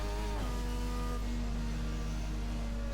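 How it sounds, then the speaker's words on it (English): A racing car engine in a video game revs high in first gear near a pit entry line, a loud sustained buzzing drone with a brief pitch drop early on, then holding steady without talk. "Just revving it out in first gear there"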